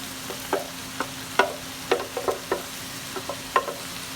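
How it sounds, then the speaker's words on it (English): Collard greens are stirred into browned meat in a pan, producing a quiet background sizzle broken by a string of irregular clattering scrapes and taps from a utensil. "we're going to take our collards and we're just going to add them in"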